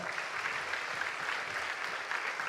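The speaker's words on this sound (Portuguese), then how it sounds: "Você pode aplaudir ao Senhor?" A church congregation clapping steadily, a dense even wash of applause without pauses throughout.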